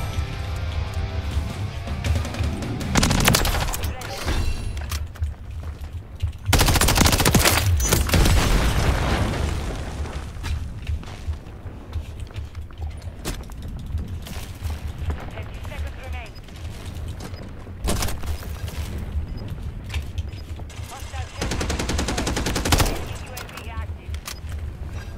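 Call of Duty gunfire, with repeated shots and bursts, loud booms and heavy firing sections, mixed with game sounds and occasional voices over nearly half a minute.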